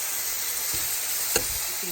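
Sausage frying in a pan, a steady close sizzle and hiss with a couple of faint clicks and taps of a utensil.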